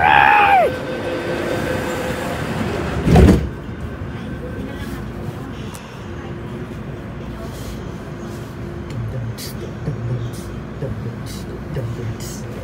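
A Hong Kong metro train runs along the line between Tiu Keng Leng and Ho Man Tin, a steady rumbling roar with a brief high squeal at the start and a louder thump, carrying on evenly throughout.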